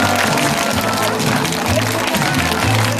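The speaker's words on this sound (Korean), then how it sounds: "모든 파트너를 위해서 박수 한번심장게 보내주시기 바랍니다" Group clapping at a summer camp talent show, dense and loud, with a low music-like hum beneath and no voices breaking through.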